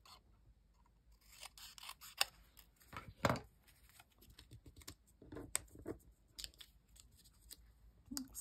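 Scissors snip paper for a junk journal, with faint irregular cutting clicks and a few louder snips scattered through a quiet room, no voices.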